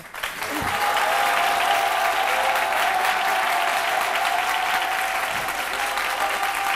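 Studio audience applause on a midday television show, a full, sustained crowd clapping that swells quickly and holds steady and loud throughout.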